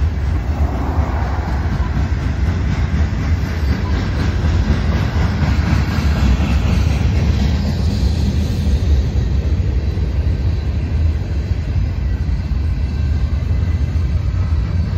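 A train rumbles past continuously, a loud, broad roar with faint rhythmic clatter, steady throughout with no voices.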